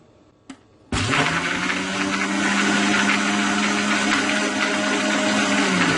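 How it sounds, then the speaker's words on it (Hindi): After a soft click, an electric blender roars to life blending mango milkshake with ice cubes and sugar, running loud, close and steady without a break. "इसको अच्छी तरह ब्लेंड कर दें"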